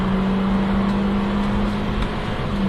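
A 2014 Toyota Corolla accelerating hard from a standstill toward 60 mph at high altitude, a steady loud engine drone with a strong low hum holding throughout, heard from inside the car with no talk.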